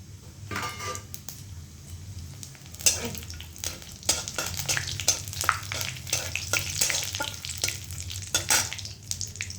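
Dry red chillies, whole cumin and a few cloves frying in mustard oil in a wok, a steady close sizzle broken by repeated scraping and clattering stirring strokes.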